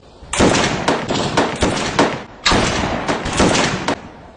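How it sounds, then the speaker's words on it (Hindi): Rifle fired in group practice, several sharp reports in two rapid bursts, loud and close, with crackling echo between shots and no talking. "5 राउंड ग्रुप फायरिंग।"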